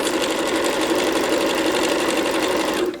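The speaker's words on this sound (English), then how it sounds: "So I'm sewing down." A sewing machine stitches down a zipper infinity scarf in one fast, continuous run, its close, even motor whir holding steady for the whole stretch before easing off at the very end.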